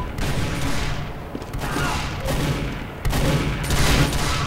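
Sniper rifle shots in a video game crack out in a few loud bursts about a second and a half apart, each followed by a short decaying echo amid steady game noise.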